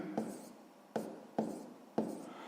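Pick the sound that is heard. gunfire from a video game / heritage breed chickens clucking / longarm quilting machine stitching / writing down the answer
writing down the answer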